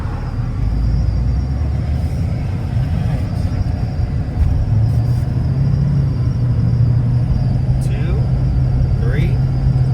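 An L5P Duramax diesel pickup truck being driven, its engine a steady loud low rumble with road noise that rises slightly midway, running continuously with no breaks.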